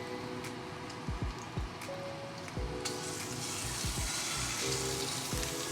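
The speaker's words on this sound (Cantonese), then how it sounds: "咁我哋第一道菜咧就係煎豬扒" A herb-seasoned pork chop pan-frying in oil, a steady close sizzle with crackling pops and occasional low thuds from handling the pan, continuous and moderately loud throughout.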